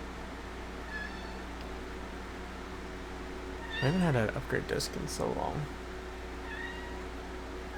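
A pet kitten meows several times close by, a cluster of short rising cries in the middle with a fainter mew before and after, while a person talks alongside.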